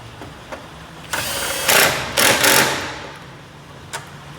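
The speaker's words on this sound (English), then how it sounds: "I'm going to put the nut back on it and tighten it up" A nut being tightened back onto a cleaned, previously loose ground connection on a vehicle, heard as a few close bursts of metallic ratcheting or scraping over about two seconds, then one faint click.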